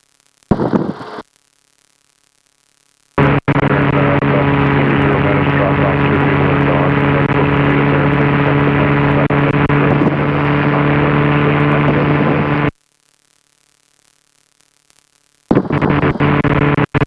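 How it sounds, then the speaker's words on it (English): A Rotorway helicopter engine roars loud and steady for about nine seconds as the throttle is brought up, bounded by brief bursts of sound and quiet gaps. "Start that flare, I'm going to start bringing the throttle up."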